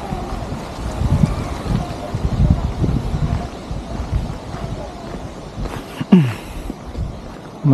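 Wind gusts buffet the microphone on the Old Indian Bridge in Canmore, a continuous rumbling roar, close and fairly loud throughout, with a brief louder gust near the end.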